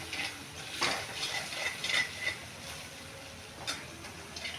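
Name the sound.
stirring and roasting batter with masala in a pan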